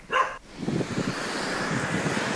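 A single loud bark from a friendly dog on a beach, followed by steady wind and surf noise.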